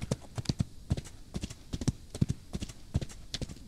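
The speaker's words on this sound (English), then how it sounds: "That's a horse." Horse hooves clip-clop in a quick, steady rhythm in a Western video game about outlaws of the Old West, close and clear with no talk over them.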